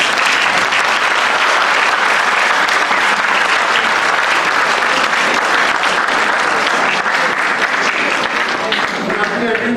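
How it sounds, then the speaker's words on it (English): An audience at a live talk applauds loudly and steadily for several seconds, a dense wash of clapping with no voices on top. "let's give him a big round of applause."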